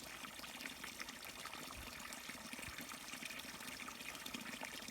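Water from a natural spring trickles and babbles steadily in a faint, continuous stream, with no voices.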